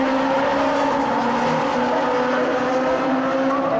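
Legends race cars racing at Silverstone, a dense pack of engines roaring together loud and continuous, with a steady high-revving drone and no talk over it.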